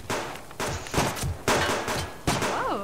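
Pistol shots ring out in a co-op session of the survival game Subsistence, four sharp reports spaced about half a second apart, each with a short ringing tail, close and loud, no talking.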